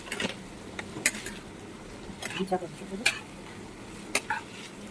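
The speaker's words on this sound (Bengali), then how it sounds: "এটাকে আমরা ভালো করে নাড়িয়ে দেবো" Chicken chow mein ingredients sizzle in a pan with olive oil and salt while a utensil stirs them, giving scattered clicking scrapes over a constant frying hiss.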